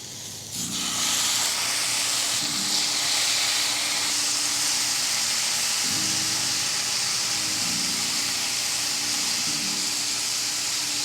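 Thick Godshalls bacon, three slices at a time, frying in a pan already used for pancakes: a loud, steady, close hiss and sizzle that holds unbroken throughout, over a faint humming drone underneath.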